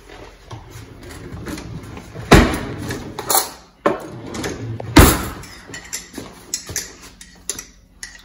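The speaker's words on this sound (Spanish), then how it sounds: "Lo vamos a batir." Shrimp fritter batter is whisked in a bowl with irregular clacking and scraping strokes, some louder knocks among softer taps, and no one speaking.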